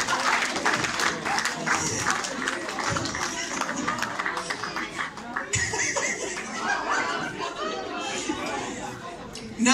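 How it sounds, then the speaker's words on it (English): Sustained applause from a crowd at a darts presentation night, steady clapping mixed with laughter and chatter, with voices talking over it throughout. "Give him a big round of applause"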